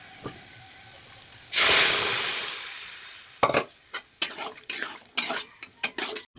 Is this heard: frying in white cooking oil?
yes